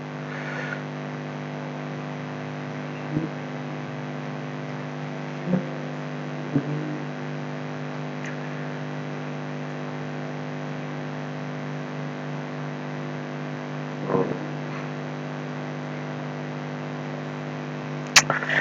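Angkot minibuses crowd a dense street in Astana Anyar, a steady engine drone and traffic hum with occasional knocks and clatters breaking through.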